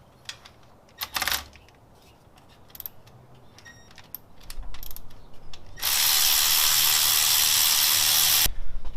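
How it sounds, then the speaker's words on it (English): A ratchet works loose 7/16 header bolts on an LS1 engine with scattered clicks and clanks, then a loud continuous whirring burst of about three seconds at close range. "I'm going to undo all the header bolts"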